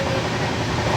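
A train rolls along the Rajkot–Kanalus line with a dense, steady rumble heard from inside the coach, loud and unbroken for the whole moment.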